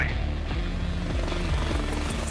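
An AH-64E Apache attack helicopter flies close by, its rotor beating in a steady, loud, rhythmic chop over a continuous engine roar.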